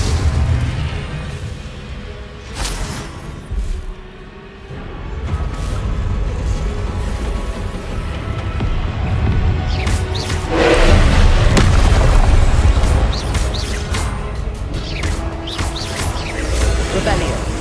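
Booming blasts from the Confringo explosive spell in the game Hogwarts Legacy, mixed with crashes, thuds and a shouting voice, over rumbling in-game background sound.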